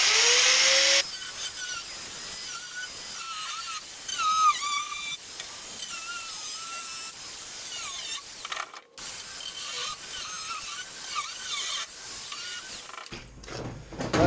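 A power cutting tool saws through an old car floor pan with a continuous high, hissing, grinding whine that wavers in pitch and breaks once briefly before stopping.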